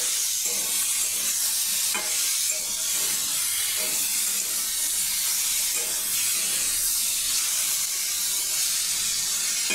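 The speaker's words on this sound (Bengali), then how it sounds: "ভালো করে এটাকে কষিয়ে নেব।" Sautéing and stirring a dish in a pan, a steady hiss of frying fat running throughout with intermittent spoon scrapes and clinks against the metal, close and fairly loud, no voices.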